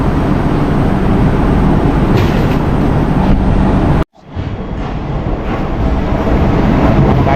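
The Amritha Express, train number 16343, rumbles loudly at a railway platform with a constant roar, cut off by a sharp drop around the midpoint, then builds back to the same heavy noise.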